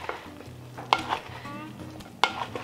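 A spoon stirs a beef stroganoff mixture in a pot being prepared for canning. Slow scraping and soft sizzling repeat in a steady rhythm, and two sharp clinks of metal against the pot ring out, close and alone with no voices.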